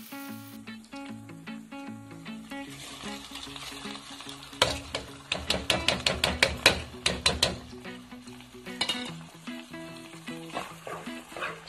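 Rice is stirred into a hot pot of sizzling aromatics for Filipino arroz caldo, a steady sizzle broken by a close flurry of quick scraping, rattling stirs, with faint tonal music underneath.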